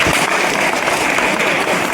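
Students in a college hall applaud loudly, a dense, steady roar of clapping from a crowd that fills the whole short moment.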